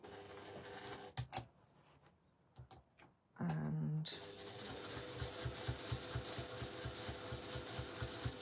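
Domestic sewing machine stitching a zip, rapid, even mechanical ticking that starts after a few scattered clicks and handling knocks and then runs steadily and close for several seconds.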